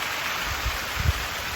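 Heavy rain falls steadily at night on a garden, a constant hiss with a few faint low thumps.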